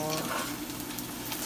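Belarusian potato pancakes (draniki) frying in a pan in a home kitchen, a steady close sizzle with faint scraping as they are turned, no talk.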